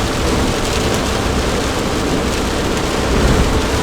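Heavy rain drums on a parked car used as a bird-watching hide, a dense, loud, unbroken hiss and patter filling the whole stretch with no voices.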